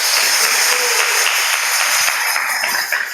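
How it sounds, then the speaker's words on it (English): Loud, sustained crowd applause at a temple Vyasapuja celebration, many hands clapping densely together close by, thinning slightly at the end. "So please give them a huge round of applause."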